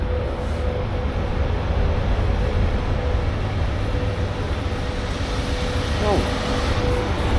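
A freight train rolls past on a line in Kazakhstan, a steady loud rumble of wagons filling the whole stretch, with a brief exclamation from someone nearby.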